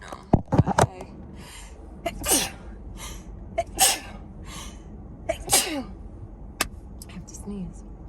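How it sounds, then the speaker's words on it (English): A single sharp sneeze stands out among quiet clatter and short soft voices in an indoor setting, with a few brief breathy sounds around it. "I have to sneeze."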